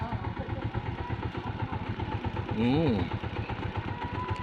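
Motorcycle engines run at a steady low idle on a steep road in San Antonio Santicon, Malilipot, Albay, with a brief swelling engine note partway through, all beneath continuous conversation.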